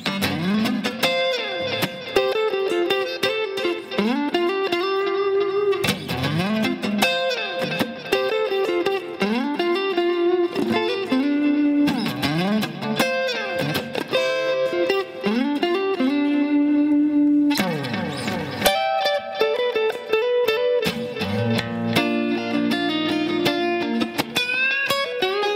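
An electric guitar plays a solo, a continuous run of bent, sliding notes and chord stabs with a slightly driven tone, close and steady throughout.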